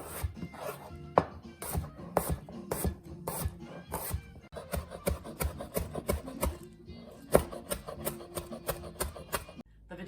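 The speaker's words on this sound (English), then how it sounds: "So I'm just gonna cut these in nice little squares, diced, just like this." A knife dices unpeeled potatoes into small cubes on a cutting board, giving a steady run of close, sharp chopping knocks that stop briefly midway and again at the very end.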